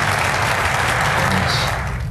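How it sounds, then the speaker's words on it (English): Steady clapping from a golf gallery at the 2023 English Open, a dense outdoor wash of applause holding evenly for a couple of seconds. "The crowd enjoyed that one."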